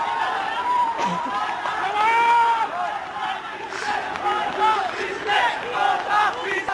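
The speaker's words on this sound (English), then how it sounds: "They're cheering the fact that they've managed to breach the security" Sri Lankan protesters in the street shout and cheer after breaching security, a crowd of many voices yelling in waves, with rising chants and bursts of noise carrying through the whole stretch.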